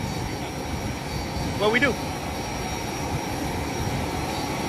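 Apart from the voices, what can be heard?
airplane cabin with jet engine running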